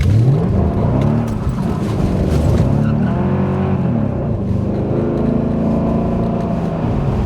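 A supercharged Mercedes CL55 AMG, a heavy rear-wheel-drive coupe, revs hard while drifting, its engine rising and falling with tires squealing loudly and continuously close by.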